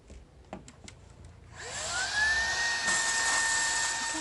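A Shark IZ201UK cordless vacuum cleaner switches on after a few soft clicks and settles into a loud, steady high-pitched whine with a rising motor tone, running alone.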